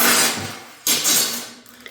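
Two sharp metallic strikes of a small hammer on a center punch ring out close by, each leaving a short bright ringing tail.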